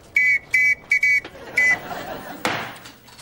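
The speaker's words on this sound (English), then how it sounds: "With this bloody whistle blowing it all the time." In a Father Ted scene, a whistle is blown in five shrill, piercing blasts in quick succession, loud and close, followed by a thump and faint voices.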